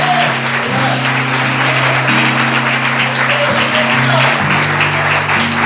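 A church congregation applauds steadily and loudly throughout, the dense clapping laid over sustained keyboard chords that shift every second or so.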